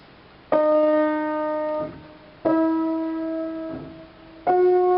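Three sustained piano chords from a melody introduction ring out evenly spaced, each struck cleanly and held about a second and a half before fading and releasing.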